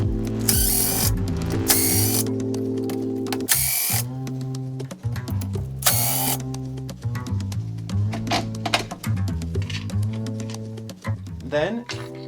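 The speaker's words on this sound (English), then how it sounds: "To get to that, we'll just remove these 4 screws." Power driver backing out four screws from the motor assembly of a DeWalt miter saw, in several loud whirring, ratcheting bursts with short pauses, close up, while someone talks over the work.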